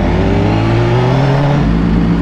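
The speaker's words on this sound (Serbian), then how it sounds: "prva vožnja motora ove godine" Motorcycle engine revving on its first ride of the year, a loud, close, steady roar whose pitch climbs slightly, with no voices.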